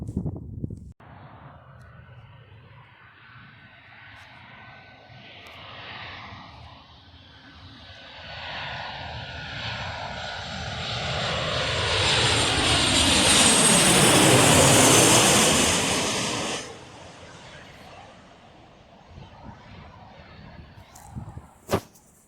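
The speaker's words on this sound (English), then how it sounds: "I've seen plentiful amounts of these airplanes." An airplane approaches from afar, its engine roar building steadily until it passes loudly overhead. The sound sweeps downward in pitch as it goes, then cuts off sharply and leaves a quiet background.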